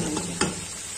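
Onion browning in a hot pan for macaroni, a steady soft sizzle with a brief stirring scrape partway through, close and continuous, no talking.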